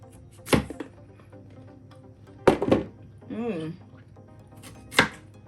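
A knife cuts through cooked cassava, giving three or four sharp, close chopping thunks spaced a couple of seconds apart, with a short hum of voice between them.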